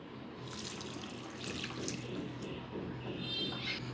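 Milk pours into a pan for homemade yogurt, tok doi, a soft continuous trickling stream that swells slightly toward the end, faint and close.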